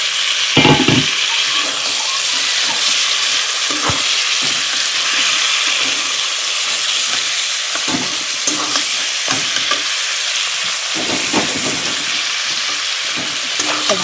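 Mutton pieces sizzle and fry in a hot pan for a village-style mutton curry, a loud steady crackle with repeated scraping stirs, no talking.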